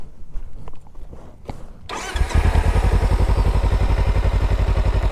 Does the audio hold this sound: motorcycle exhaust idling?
yes